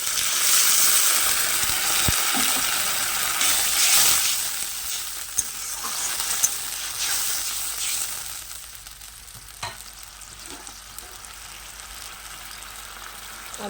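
Water poured into a hot pan of fried chopped garlic sets off a loud hissing sizzle that slowly fades, with scattered clinks of stirring as it settles.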